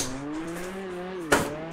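A car engine drones at steady pitch in the CarX Drift game, then the e-brake yanks the tires into a sharp, loud skid, with a second screech right at the end.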